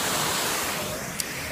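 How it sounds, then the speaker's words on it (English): Rushing water below a bridge at Watkins Glen, a steady broadband roar heard from above, continuous and unbroken apart from one faint click near the end. "There's some rushing water and it's on"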